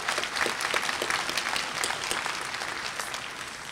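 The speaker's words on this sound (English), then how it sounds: "Give them a round of applause." Audience applause fills a 2013 Columbia Southern University graduation ceremony hall, a steady dense wash of many hands clapping at once, sustained and even throughout with no talk over it.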